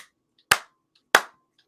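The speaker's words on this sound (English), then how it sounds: "Let me do 3 claps and we'll start" Two sharp hand claps ring out about two-thirds of a second apart, close and crisp, with silence around them and no talking.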